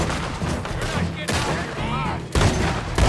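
Shotgun blasts ring out in Red Dead Redemption 2 gameplay, several sharp loud reports spaced through the clip amid game ambience.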